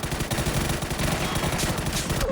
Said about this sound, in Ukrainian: Тут досі йде невеличка перестрілка локальна